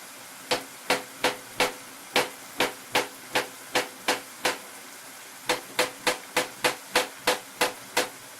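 Carrots chopped with a knife on a cutting board, a steady series of sharp, close knocks in two runs with a short pause between, heard alone.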